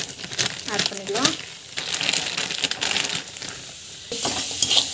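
Jaggery roasting with flour in a bowl for homemade protein powder, uneven scraping and stirring with a soft sizzle close up, while someone talks over it.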